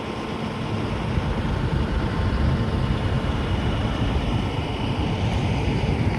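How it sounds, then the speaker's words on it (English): Idling trucks at a truck stop parking lot in Oklahoma City at night make a dense, steady low rumble that holds unbroken throughout, loud and close, with no voices. "If you've never slept at a truck parking lot, that's exactly what it sounds like."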